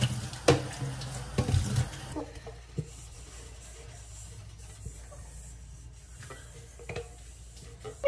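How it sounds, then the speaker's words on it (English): A kitchen tap runs water into the sink during home cooking, a fairly quiet, steady stream with occasional clinks and rubbing sounds mixed in. "My water is really loud."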